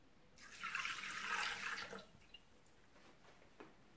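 Milk poured into a Thermomix mixing bowl for focaccia dough, one steady splashing pour lasting under two seconds, close and soft, followed by a couple of faint drips.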